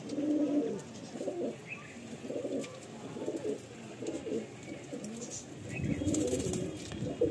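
Madrasi pigeons in a pigeon loft at Bankra, Howrah, coo in soft, repeated low rolling phrases, close by and fairly quiet, with faint background sounds.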